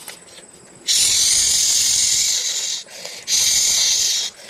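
Taro pieces dropped into hot oil with garlic and ginger give a loud, steady sizzle close by. The sizzle breaks off briefly, then returns just as strong.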